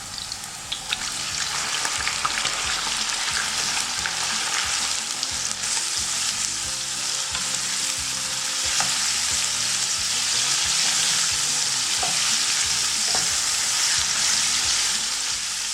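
Pork belly frying in a pan for a Chinese braised noodle dish, a steady loud sizzle with crackling and occasional stirring throughout, no talk.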